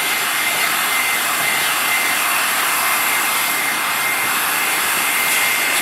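A heat gun blows hot air onto a metal part being warmed for a powder coat finish, producing a loud, steady, unbroken whooshing roar of fan and airflow with no voices over it.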